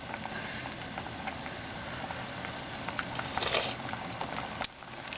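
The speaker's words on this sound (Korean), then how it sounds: "이렇게 중불에 10분 정도 끓이면" Korean spicy pollock roe stew (altang) with liver simmering in a pot over medium heat, giving a steady soft bubbling patter with brief louder bursts of boiling.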